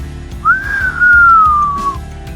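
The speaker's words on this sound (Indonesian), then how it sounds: "kok ternyata pandai sekali main suling" A suling bamboo flute, played loudly in a cheerful tune, holds one clear sustained note that glides slightly downward over about a second and a half, above a low patterned musical background.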